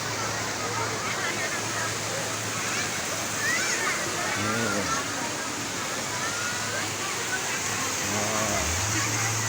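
Fast, shallow river current rushing steadily just below Umbul Nepen spring in Boyolali, a continuous broadband water roar with children's voices chattering over it throughout.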